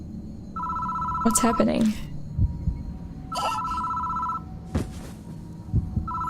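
A telephone bell in the horror game Death Mark rings in repeated bursts, loud and close, with a voice speaking between the rings.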